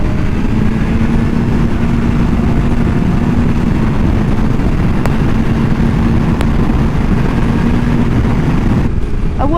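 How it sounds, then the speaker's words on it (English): 2022 BMW S1000RR superbike engine pulling hard under acceleration past 6,000 RPM, a loud sustained roar with heavy wind rush that cuts off abruptly near the end. "this is when the bike really pulls."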